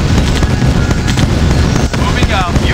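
Unit explosions from the Command & Conquer video game, Nod mission Deceit, come as a dense, loud rumbling blast-and-debris roar that fills the whole stretch, with brief whistling crackles near the end and game chatter mixed in.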